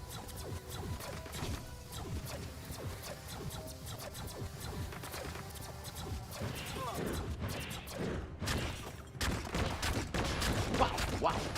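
Video game gunfire in Biomutant, rapid bursts of shots and crashing impacts layered over busy game effects and music, growing denser and louder toward the end, with a voice talking over it.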